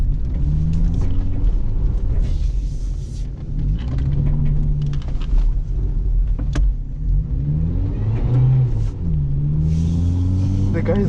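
A Honda Civic engine revs and rumbles steadily while the car drifts through snow, the note rising and falling with throttle, close and loud, with some talk in the car over it.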